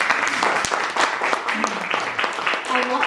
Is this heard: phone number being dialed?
no